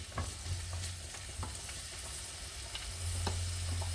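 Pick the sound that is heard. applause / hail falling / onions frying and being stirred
onions frying and being stirred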